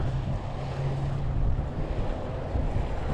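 Strong wind at a boat ramp by the water, a loud constant roar buffeting the microphone with low rumbling gusts and nearby wave wash, steady for the whole stretch with no talking.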